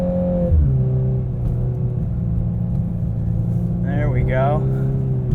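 A 2022 Volkswagen Golf R with DSG gearbox on winter tires slides on snow, its engine holding a steady droning rumble with a pitch drop early on, while someone talks briefly over it.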